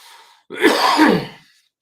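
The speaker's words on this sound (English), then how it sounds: "Hang on, because I have to cough." A single loud, close cough, harsh and breathy, following a faint breath, with no speech around it.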